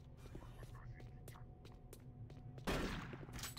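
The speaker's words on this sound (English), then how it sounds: "Who said the shotguns don't work properly?" Shotgun blasts and rapid gunfire ring out in the video game Doom 3. Sharp, close shots come in a quick irregular series, then a louder burst near the end, with faint voices murmuring underneath.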